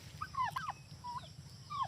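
Turkeys gobble in short rising-and-falling bursts on a quiet morning, the rapid warbling calls repeating three times at moderate distance over a low steady rumble, with no talking.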